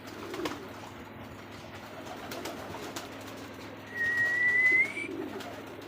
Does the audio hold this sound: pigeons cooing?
yes